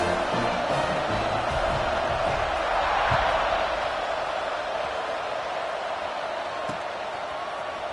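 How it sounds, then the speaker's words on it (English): A college football stadium crowd at a Penn State versus Florida State game keeps up a steady, broad roar throughout, with a commentator's voice faintly present under the noise. "this crowd is buzzing after that last score"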